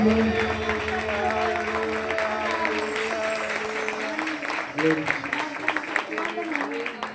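A church congregation claps together during worship songs, the steady rapid applause running throughout with voices singing and talking over it.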